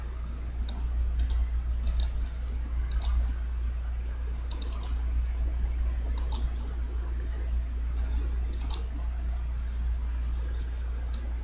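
A zip code is typed on a computer keyboard in short bursts of crisp, close key clicks, separated by pauses, over a steady low hum.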